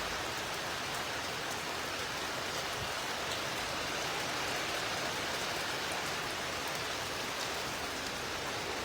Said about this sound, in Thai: ฝนตก